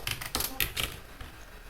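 Keys clack on a computer keyboard in a quick burst of about five sharp taps, then trail off into quiet; close and moderately loud with no voice over them.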